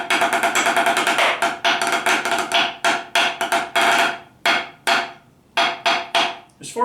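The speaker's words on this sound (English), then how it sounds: "the slim pad sounds more like you're playing on a piece of wood" Drumsticks striking a slim drum practice pad with a dry, woody knock, a fast steady run of sharp strokes and rolls, then sparser separate hits toward the end, close and loud with no talking.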